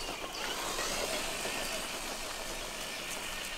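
A Traxxas TRX-4 RC car drives along, its small electric motor producing a steady, fairly quiet whirring hum with a hiss of wheels, continuous and even throughout without any talking.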